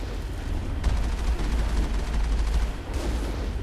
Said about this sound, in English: Is me just driving this hot air balloon with a cannon attached to it.